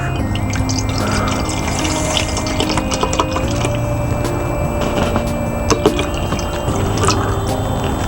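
About eight ounces of water pours steadily into a container beside a wood and alcohol burner stand, a continuous trickling splash lasting several seconds, close and alone without talk.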